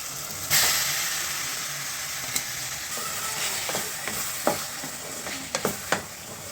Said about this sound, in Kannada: ಇವಾಗ ಫ್ರೈಗೆ ಹಾಕ್ತಾಯಿದ್ದೀನಿ ನೋಡಿ